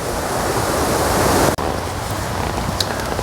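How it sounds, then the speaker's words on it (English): Wind blows steadily outdoors in winter woodland at a camp, a loud, dense rushing roar with brief dips and gusts, close to the microphone and with no voices. "The wind is picking up"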